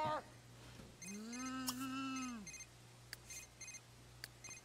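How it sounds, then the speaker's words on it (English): A phone rings in The Sims 3 video game: a sustained warbling electronic tone followed by a series of short, evenly spaced beeps, quiet and clear with no talking over it. "I'm gonna answer the phone."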